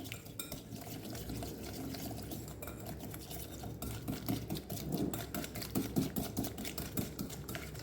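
Thick seasoning paste for roast pork being stirred and squished in a bowl, a continuous wet churning with irregular clicks and scrapes that grows busier toward the end.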